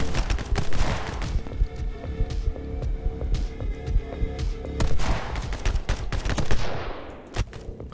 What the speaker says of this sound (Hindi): स्नाइपर की गोलियां हम लोगों को मिल रही है।